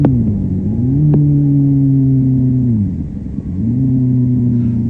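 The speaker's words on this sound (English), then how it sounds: "he's revving the motor, but the clutch release is so slow he loses all the revs from his throttle blip" A motorcycle engine rises and falls in pitch through sloppy downshifts, revving on each throttle blip and then droning at a steady pitch as a slow clutch release lets the revs drop, loud and close, with no talk.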